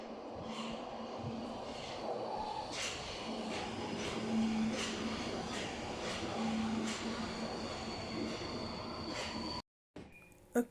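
A metro train rumbles and whirs steadily as it pulls in, with a faint tone rising and falling and a brief cut near the end.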